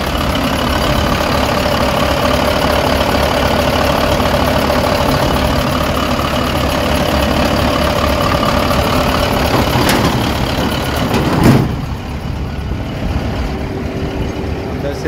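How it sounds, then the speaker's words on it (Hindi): A 1997 Kato 25-ton mobile crane's diesel engine idles loudly up close with a steady knocking rumble, then a brief clunk near the end before the idle continues more quietly. "ये इसका इंजन है"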